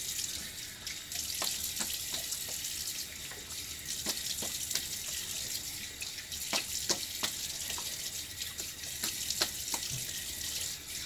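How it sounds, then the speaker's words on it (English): Water splashes at a bathroom sink during a wet shave, a continuous quiet hiss of running or splashing water with scattered small drip and splash clicks, no talking. "I'm just kind of splashing water everywhere"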